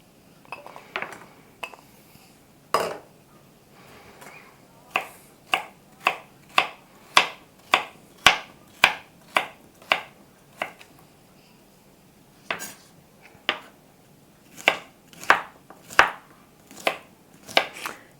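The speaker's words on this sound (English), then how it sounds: "Now you can cut these vegetables as small or as large as you want." A knife chops vegetables for a summer salad on a board, with sharp close knocks that start sparse and become a steady rhythmic run of cuts, pausing briefly before resuming, with no talking.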